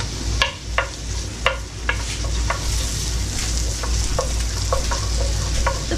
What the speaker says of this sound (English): Butter's melted. So I'm going to add in the onions. And sweating them down.